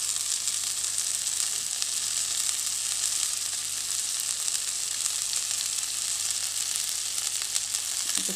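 Masala-coated pomfret fish frying on a tawa, a dense, even hiss of oil sizzling without pause, close and fairly loud, no voices.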